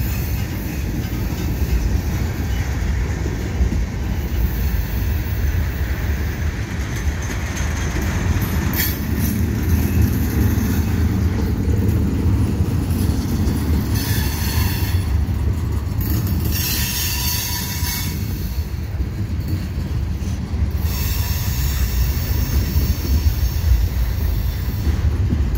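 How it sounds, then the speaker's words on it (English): A CN freight train rolls past the Atwater Street Bridge with a loud, steady rumble of wagons, metallic wheel squeal and clatter over the rails, close and continuous throughout. "The other train there."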